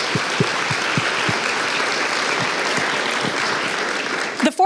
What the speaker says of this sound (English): Let's give them all a round of applause and congratulations in advance.